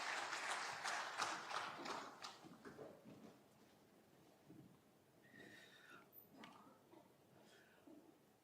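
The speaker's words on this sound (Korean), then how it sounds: "우리 다시 한번 큰 박수로 수고에 격려하겠습니다" A church congregation applauding during a Sunday afternoon worship service, a burst of clapping that fades after a few seconds into a quiet room with scattered faint noises.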